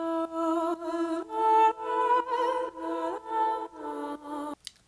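An EDM synth chord part with heavy sidechain compression from Kickstart 2, its level ducking and swelling in a steady pumping rhythm of repeated beats, then cutting off abruptly at the end.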